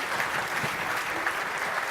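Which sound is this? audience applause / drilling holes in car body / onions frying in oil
audience applause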